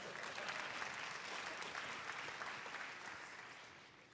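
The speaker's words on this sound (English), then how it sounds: "Yes, you should clap. Come on." Audience applause at a justice and law panel, a steady wash of clapping from a sizable crowd that holds through and fades slightly toward the end.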